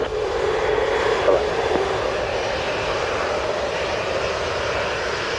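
Airplane engine roaring steadily at takeoff at Montego Bay airport, Jamaica, a loud, continuous drone heard from outside with no speech over it.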